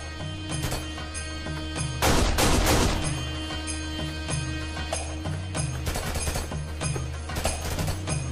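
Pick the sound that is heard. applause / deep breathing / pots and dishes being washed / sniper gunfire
sniper gunfire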